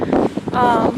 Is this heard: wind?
yes